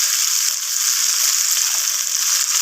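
Vegetables with turmeric, red chilli powder and cumin fry in a pan for a Bengali chorchori of bhetki fish head and Malabar spinach, producing a loud, dense, unbroken sizzle throughout.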